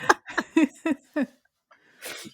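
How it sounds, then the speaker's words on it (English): A few short voiced gasps build up, then one sharp, breathy sneeze bursts out close by after a brief pause. "hold on, I gotta sneeze."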